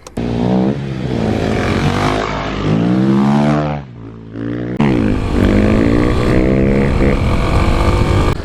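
A 2021 Kawasaki KLX300 dirt bike riding off road revs loud and close, its engine climbing in pitch, dropping briefly off throttle, then pulling hard again through to the end.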